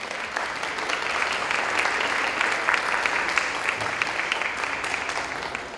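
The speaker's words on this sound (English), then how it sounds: "Let's give them a round of applause" Sustained, dense applause from a large audience at the Hispanic Leadership Summit of New Jersey, a steady roar of many hands clapping together at close range for the full length, with no speech over it.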